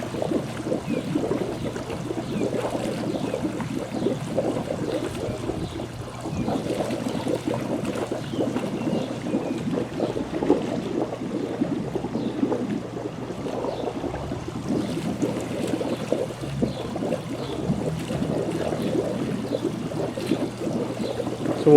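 Air purging from a pool's solar heating line into the water, a continuous low bubbling and gurgling churn that holds steady throughout, close by with no talking.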